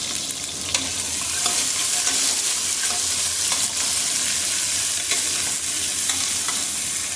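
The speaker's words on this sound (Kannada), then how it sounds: "ಫಸ್ಟು ಈರುಳ್ಳಿನ ಸ್ವಲ್ಪ ಚೆನ್ನಾಗಿ ಫ್ರೈ ಮಾಡ್ಕೋಬೇಕು." Onions fry in a pan with a loud, continuous sizzle and occasional stirring scrapes throughout.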